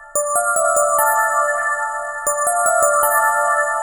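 Bright metallic FM synth bell tones from the EFM1 synthesizer, struck in quick, dry succession, each note clean and short with no echo tail; no talking.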